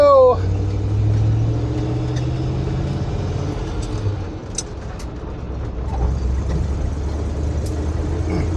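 Old car rolling down a road toward a gas station, a low engine rumble with road noise, light rattles and a few faint clicks, heard from inside the cabin.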